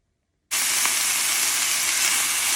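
Food sautéing in a hot pan, a loud sizzle that bursts in abruptly and holds as a steady, close hiss with no talk over it.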